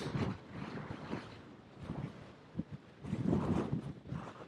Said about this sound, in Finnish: Aivan helekatin kova tuuli.